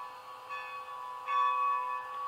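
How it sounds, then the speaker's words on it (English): Ringing from a model locomotive's TCS WOW sound decoder bell sustains as a faint, steady metallic tone with gentle swells, heard alone without voices. "Love the bell."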